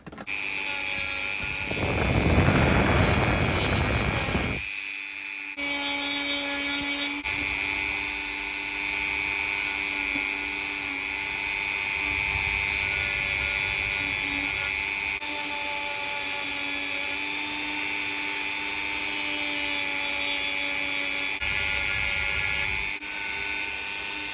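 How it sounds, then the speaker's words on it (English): A Dremel rotary tool fitted with a rubber sanding drum whines at a steady high pitch, with one loud grinding burst early on and an even motor drone continuing throughout, no voices present. Work is part of restoring a barn-find Honda VFR400 NC30 motorcycle. "basically you fit them on like this and stick them in the Dremel"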